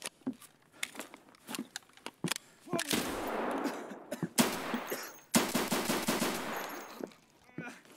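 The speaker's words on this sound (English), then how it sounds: "That guy got a couple shots on me in the chest." Gunshots crack in the Escape From Tarkov shooter game, starting as scattered single sharp reports, then building into loud bursts of rapid automatic fire before fading.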